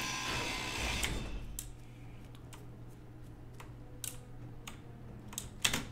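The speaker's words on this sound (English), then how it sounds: "Now I'm on Discord typing." Typing on a computer keyboard, a run of sharp separate key clicks in an uneven rhythm, close and fairly faint over a low steady hum, with no talk.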